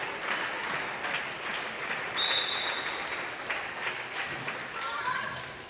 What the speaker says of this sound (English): I appreciate them starting the slow clap slow.